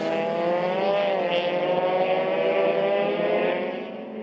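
Euroformula single-seater race cars scream past through a chicane at the Nurburgring, a steady high engine wail with rising and falling pitch that tapers off near the end, fairly close and loud.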